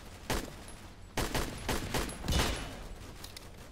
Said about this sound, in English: I can just sit here and spray this pistol.